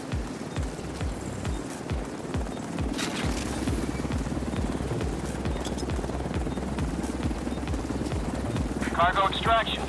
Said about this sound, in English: Helicopter on site.